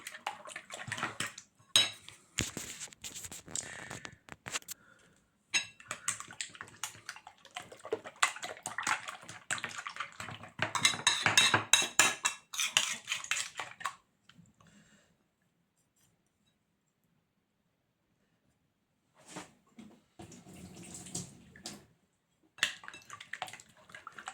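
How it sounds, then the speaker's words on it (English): Egg being mixed in a bowl with a kitchen utensil while cooking breakfast at home, giving repeated clinking, scraping strokes in bursts, fairly close, with a quiet pause partway through. "I'm mixing the egg."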